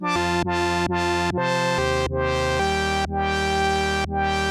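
Vongon Paragraphs 2 synthesizer playing a sequence of sustained harmonic notes whose envelope swells in slowly and cuts off quickly, giving a reversed feel; about eight notes in a row, clear and alone.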